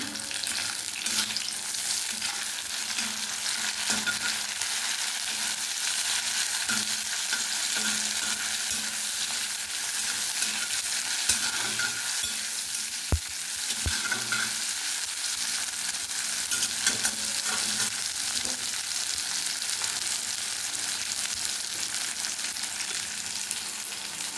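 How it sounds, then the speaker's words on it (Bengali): Chopped tomatoes sizzle in a pan over onions fried with spices for a Pabda fish curry, a steady close hiss and crackle that persists throughout, broken by a few sharp spoon knocks and stirring scrapes. "টমেটো কুচিটা দিয়ে দিলাম।"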